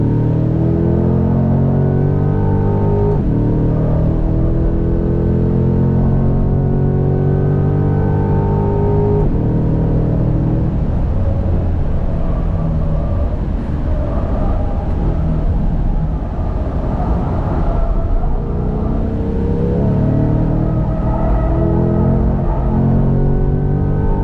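A race car's engine drones and revs loudly during passenger laps on a track with an instructor at the wheel, the pitch rising and falling through gear changes in a continuous close-up roar with no talk.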